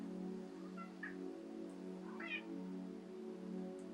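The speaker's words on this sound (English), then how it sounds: "If you hear some background noises, that is mostly my cat." A pet cat gives two short, faint meows in the background during a quiet yoga session, set over a steady low hum.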